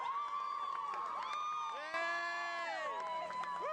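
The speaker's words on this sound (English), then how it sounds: "The crowd on the square after the ball game." A large crowd fills a town square after a ball game, a dense, steady roar of cheering and shouting voices with whoops and whistles rising above it, loud and sustained throughout.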